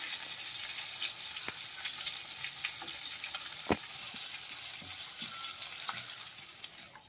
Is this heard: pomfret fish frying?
yes